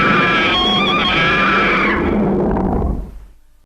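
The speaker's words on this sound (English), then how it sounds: "this causes Destoroyah to scream in pain" Destoroyah, the giant film monster, lets out a loud, shrill, screeching roar of pain with harsh layered tones that holds for about two seconds, then fades into a low rumble and dies out.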